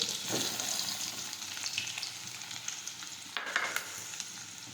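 Garlic, green chili and onion fry in a pan for Gujarati ringan no olo (smoky mashed brinjal), making a soft, fairly quiet sizzle broken by a few brief bursts of crackle and scraping.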